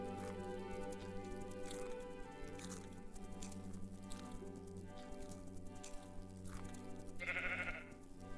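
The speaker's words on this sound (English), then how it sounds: "Sheep." Sheep bleating in the video game Bee Simulator, a few bleats rising over a steady busy game soundscape with music-like tones, the strongest call near the end.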